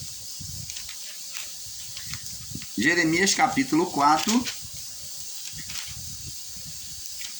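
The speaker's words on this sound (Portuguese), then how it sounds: "se ouvir um barulho de chiado, é a panela de pressão" A pressure cooker cooking beans hisses steadily in the background, a continuous high airy hiss running under a man's speech.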